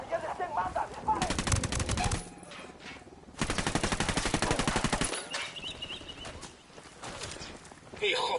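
Sustained automatic gunfire in Ghost Recon comes in two long, loud rattling bursts separated by a short pause, followed by scattered shots and shouting voices.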